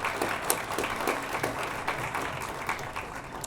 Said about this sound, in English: I think that's a round of applause for our past presidents.